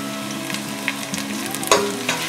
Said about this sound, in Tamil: இந்த பச்சை வாசனை போகிற வரைக்கும் நல்லா வதக்கிக்கலாம்